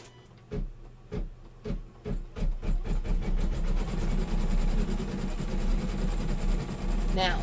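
An embroidery sewing machine stitching in green thread starts up with a few spaced thumps, then settles into a steady, close, rapid mechanical whir with a rhythmic needle chatter and a low motor hum, with no talk over it.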